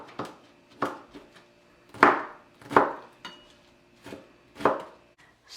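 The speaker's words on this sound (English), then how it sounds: "So we're done chopping the broccoli." A knife chops broccoli on a cutting board in about eight sharp, evenly spaced thuds, close and crisp with quiet gaps between strokes.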